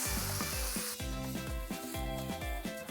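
Dhaba-style chicken sukka frying in a pan while salt is stirred in, a loud continuous sizzle broken by rhythmic spatula scrapes and taps, with no talking.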